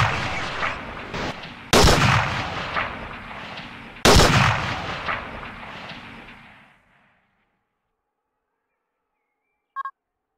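Machine gun and artillery fire in a wartime combat scene: two loud booming blasts over continuous rattling gunfire that fades into silence, then a brief faint beep near the end.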